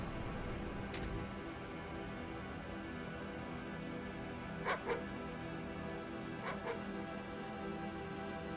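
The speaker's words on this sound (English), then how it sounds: "Good doggies are good doggies." Dogs in the video game MyHouse.wad bark in a few short, faint yips scattered over a steady low background hum.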